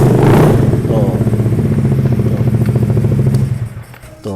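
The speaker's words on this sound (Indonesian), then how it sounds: "Jadi itu suara motor Rukus Honda Metropolis yang" A Honda Metropolis Ruckus scooter fitted with a custom bass-heavy exhaust idles and revs close by, a deep, throbbing, rapid burble that pulses steadily before dropping away near the end.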